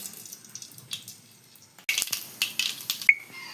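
Mustard seeds hit hot oil in a kadai and begin sputtering, a soft background fizz turning into a burst of crackling and popping that keeps going, close by, with no voices.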